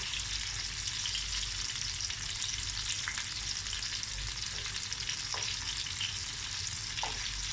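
Meatballs fry in hot oil with a steady crackling sizzle throughout, plus occasional soft scrapes and pops, close and continuous, with no voices.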